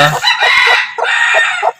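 Desi chickens on a farm cluck and a rooster crows loudly and close by, the calls running almost continuously in two long bursts.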